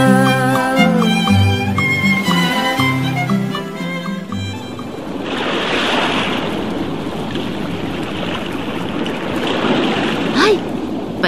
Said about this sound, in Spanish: Ay, parece que esa ola quiso que la mirara. Sí, porque me salpicó.